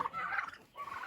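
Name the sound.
turkey gobbling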